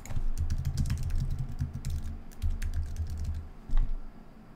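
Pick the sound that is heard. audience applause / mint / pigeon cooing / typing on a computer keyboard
typing on a computer keyboard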